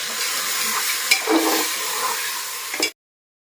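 Goat meat stirring and sizzling in a cooker, a close, steady frying hiss with a few scraping clinks of the spoon, ending abruptly.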